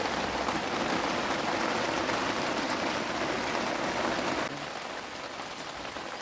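Rainwater falls steadily inside a kitchen, a dense, continuous hiss of drops pattering on surfaces, loud and close throughout, easing slightly in level toward the end.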